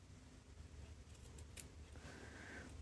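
Scissors cut fabric for a polo shirt placket, a few faint, quick snips close by against a very quiet background.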